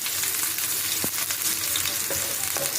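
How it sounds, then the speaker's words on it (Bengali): Chopped onions sizzle vigorously in hot oil with black cumin and green chillies, a dense close hiss broken by a few quick stirring clicks. "একটু পেঁয়াজগুলো লাল লাল করে আমি ভেজে নিই"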